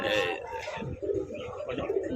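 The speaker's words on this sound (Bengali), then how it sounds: "এক জোড়া মায়াবী চোখের এক জোড়া কবুতর" Pigeons coo softly nearby while a person talks over them.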